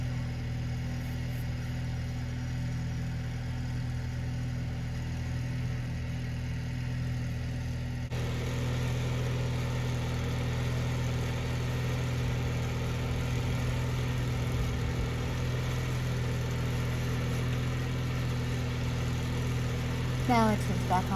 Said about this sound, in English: Now it turns back on the tractor.